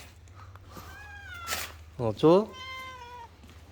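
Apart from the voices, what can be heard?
cat meowing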